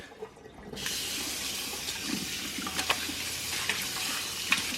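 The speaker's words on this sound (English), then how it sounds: "So I'm running it under the cold water." Cold tap water runs steadily over a firm but still squishy object being rinsed under the faucet, a continuous close splashing hiss that starts abruptly after a brief quiet moment.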